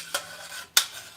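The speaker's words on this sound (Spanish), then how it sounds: "déjame vaciarlos aquí a la licuadora" Cooked tomatoes tipped into a blender jar, heard as two short, sharp clattering thuds about half a second apart, with quiet kitchen noise in between.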